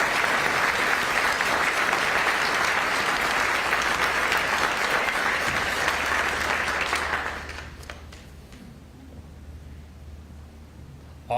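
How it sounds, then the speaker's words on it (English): A full round of audience applause at a school board of education meeting, steady and dense for about seven seconds, then dropping off quickly into quiet room tone. "one more round of applause"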